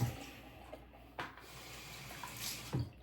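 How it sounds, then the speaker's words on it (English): Water runs steadily from a tap outdoors near a shower, a soft continuous hiss with a few faint splashes, heard close and alone. "I'm gonna add a little bit of water."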